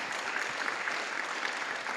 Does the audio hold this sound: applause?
yes